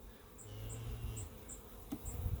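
Honey bees buzz around a hive frame from a double deep hive, both sides thickly covered with bees; the hum is a faint, steady drone with a few brief higher whines drifting past.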